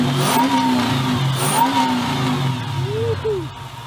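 A supercharged Dodge Challenger engine revs in repeated rising and falling sweeps, loud and close. Its tone is steady and throaty, with a brief whine-like blip near the end.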